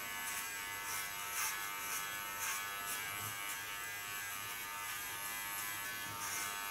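An electric hair clipper with a 2 millimeter blade setting buzzes steadily while shaving a head, a continuous faint hum with slight periodic swells as it passes over the scalp.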